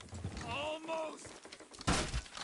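Horses in Red Dead Redemption 2 plod with soft hoof clops beneath a voice, which is followed by a sharper burst of noise near the end.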